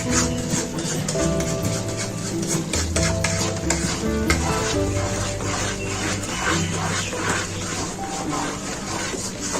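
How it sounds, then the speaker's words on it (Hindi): A spoon stirs semolina halwa in ghee and syrup over a slow flame, scraping and clinking against the pot in a continuous busy rhythm under a steady sizzle, with no one speaking. "चम्मच हमने मुसलसल हिलाते रहना है।"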